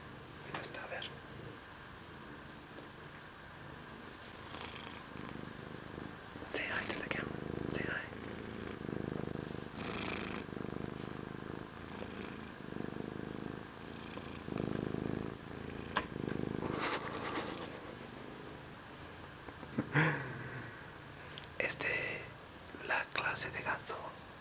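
A Russian Blue cat purrs close up in a soft, low, continuous rumble, heard under whispered talk that runs through most of the stretch with pauses between phrases.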